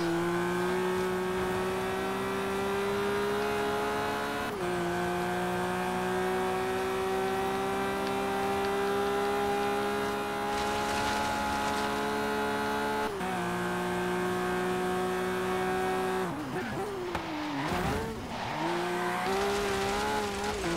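Fast cars race in a video game, engines whining at a steady high pitch that shifts with gear changes, followed by squealing tires and skidding near the end.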